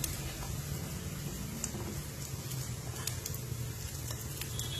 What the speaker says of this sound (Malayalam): തേങ്ങയെല്ലാം നന്നായിട്ട് വതകി വന്നിട്ടുണ്ട്